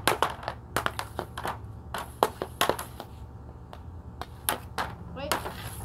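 Hockey shooting practice sends a quick series of sharp, close cracks and slaps as the puck is struck, in an irregular rhythm over a low background hum.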